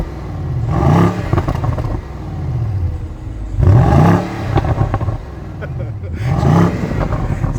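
A 2018 BMW M550i M Performance exhaust revs three times in close succession, each blip rising and falling with a deep, near, burbling roar over the idle between.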